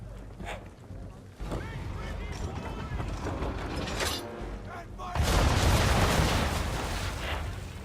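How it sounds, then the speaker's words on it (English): In Assassin's Creed III Remastered, a ship fires a naval broadside of cannons. Creaking wooden mechanisms and muffled voices build until a loud, sustained cannon roar erupts near the end. "Bring around broadside, and when all guns are on target, call fire."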